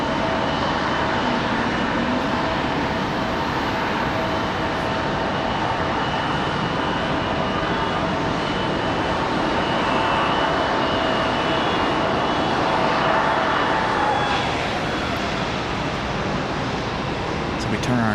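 Jet airliners during pushback at Raleigh Durham airport give off a constant loud engine whine and roar from close by, steady throughout, with no voices.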